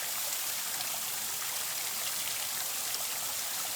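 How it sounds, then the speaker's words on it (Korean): A mossy waterfall in Tamna Valley on Hallasan, Jeju, pours with a steady, continuous rush of water that holds an even level throughout, with no voices. "탐나 계곡 중간에 위치한 이끼 폭포입니다."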